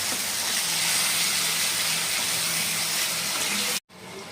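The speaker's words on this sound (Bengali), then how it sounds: "চিকেনগুলো সব দিয়ে দিছি ভেজে নেওয়ার জন্য। আর এই সময় কিন্তু আপনারা গ্যাসের ফ্লেমটা একদম হাই রাখবেন।" Chicken pieces frying in a pan over a high gas flame give off a dense, continuous hissing sizzle at close range, broken by a brief drop near the end.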